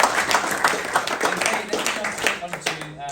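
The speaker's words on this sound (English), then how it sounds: "Guys, a round of applause," A live audience gives a short round of applause, quick overlapping hand claps that pulse unevenly and fade slightly toward the end.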